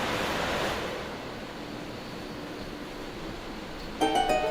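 Steady rushing water in Skyward Sword HD, a broad surf-like wash filling the scene evenly, ending with a brief bright chime-like game sound near the close.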